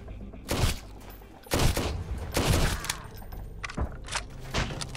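Gunfire in the Sunkenland video game, with loud, close shots in irregular bursts separated by short gaps.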